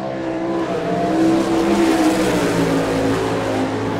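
Danny Smith's number 4 sprint car, a John Baker-owned Maxim chassis with a Schaefer racing engine, roars past on a qualifying lap at Rossburg, Ohio, its loud, steady engine note rising and holding as it passes close by.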